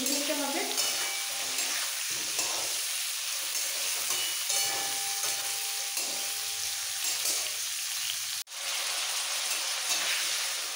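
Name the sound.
potatoes and cauliflower frying with salt and turmeric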